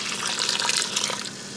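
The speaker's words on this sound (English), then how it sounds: "I added water to it, so I brought it up to about like 4 cups of water." Water pours steadily into a Ninja Foodi Smartlid OL701 pot for a short spell, a close, bright splashing stream that thins slightly toward the end.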